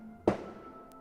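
A single firework bursting outside, heard through a closed window as one sharp muffled boom with a short decaying tail over a quiet room hum.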